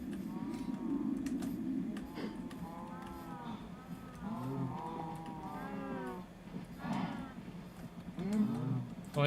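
Cows mooing in the video game Minecraft, several drawn-out moos at moderate loudness, overlapping and spread across the clip.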